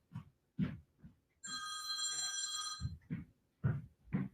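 An electronic telephone bell rings in one sustained burst of about a second and a half, standing out between stretches of someone talking nearby.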